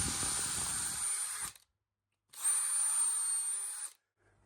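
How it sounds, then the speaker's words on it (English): A drill bit boring into solid oak, close and loud: a steady high whine for about a second and a half, a short pause, then a second sustained run that cuts off cleanly. "but go in again with a drill bit"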